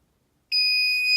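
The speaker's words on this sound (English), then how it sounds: "So beeping, that's very loud." A loud, steady electronic alarm tone from a power inverter connected to a deeply discharged Optima Yellow Top D51 AGM battery starts abruptly after a moment of quiet and holds continuously without a break.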